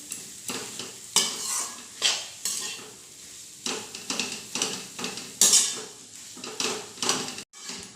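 A spoon presses and stirs boiled potatoes in a pan for kachori filling, giving a series of close scraping and clinking strokes in an uneven rhythm with short pauses between.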